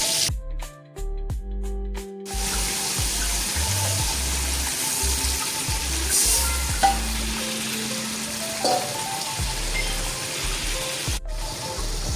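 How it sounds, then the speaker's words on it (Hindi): Eggplant fries with a loud, continuous sizzle after tomato paste is added to the pan, with a few sharp clatters at the start and occasional utensil knocks. "अब दूसरी साइड जो है ना फ्राई कर लेंगे"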